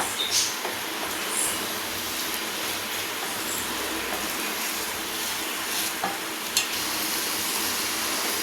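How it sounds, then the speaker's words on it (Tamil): Chicken being stirred and sautéed in a pan for a restaurant-style Tamil chicken gravy, with a soft, steady sizzle and occasional scraping clicks of the spoon, fairly quiet and with no talking. "சிக்கன் கலர் மாறுற அளவுக்கு நல்லா கலந்துட்டுக்குங்க."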